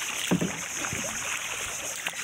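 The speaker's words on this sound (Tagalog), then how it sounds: "Sagwan tayo ng bangka." Paddling a small wooden bangka on water while out checking a fishing net: a few soft splashes and paddle strokes near the start and end, with faint water and wind in the background.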